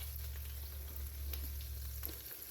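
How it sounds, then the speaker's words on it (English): Meat for Salisbury steak browns in a pan, giving a steady, close sizzle with faint crackles and spatters throughout, no voices. "while our meat is browning"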